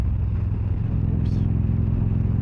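A 2013 Victory Cross Country Tour motorcycle engine held open on the throttle, a steady close rumble over the whole stretch, buffeted by wind noise.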